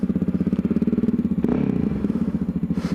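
Yamaha XT660Z Tenere motorcycle's single-cylinder engine thumping at idle, loud and near with a steady pulsing beat, a short blip of throttle midway, then back to the even idle rhythm.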